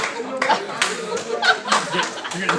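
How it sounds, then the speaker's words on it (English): Wedding guests during a best man speech breaking into scattered clapping, uneven claps spaced out under chatter and light chuckling. "You're getting a slow clap."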